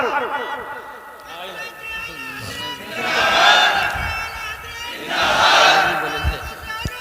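A large crowd at an Islamic religious sermon roars out slogans in two swelling surges, loud and dense, with a preacher's voice under and between the shouts.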